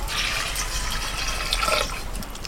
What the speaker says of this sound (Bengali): প্রেসার কুকারে করলে কি হয়, খুব তাড়াতাড়ি সিদ্ধটা হয়ে যায়। এর মধ্যে জল দিয়ে দিচ্ছি,